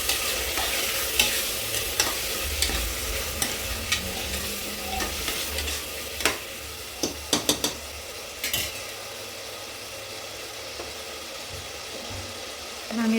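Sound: frying green chilies and rice chili powder in oil

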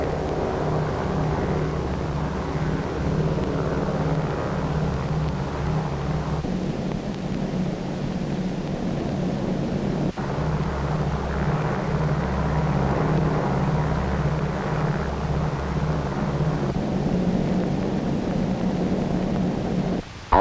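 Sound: bomber Dave's Dream flying with escort planes

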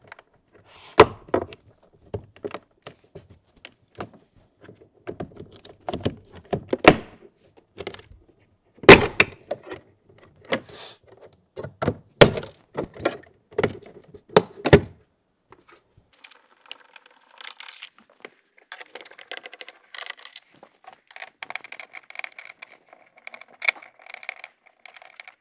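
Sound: disassembling a car door panel, removing screws

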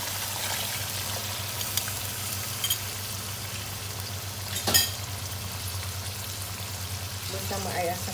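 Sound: blended liquid poured into frying pan, sizzling

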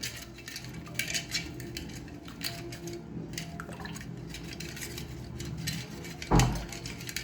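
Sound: spoon stirring sugar into buttermilk for lassi

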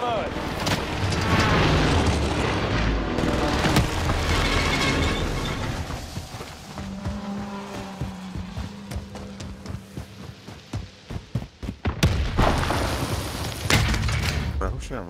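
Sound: rocket explosions in a video game

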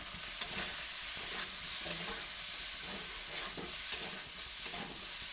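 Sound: potatoes frying and being stirred in a pan

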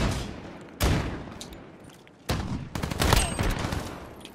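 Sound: gunshots in Call of Duty: Modern Warfare video game

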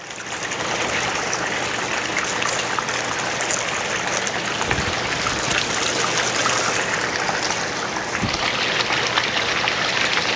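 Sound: hot tub high-speed jet pump circulating water

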